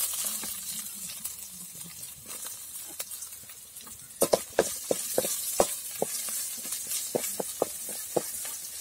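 Green chilies sizzle and hiss in a hot pan with garlic paste while an idli upma is cooked; a steady crackling fry runs throughout, punctuated by sharp spattering pops and scrapes in the second half.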